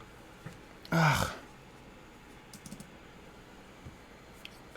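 A computer keyboard being typed on, heard as one brief burst of clicking followed by a few faint, scattered key taps in a quiet room.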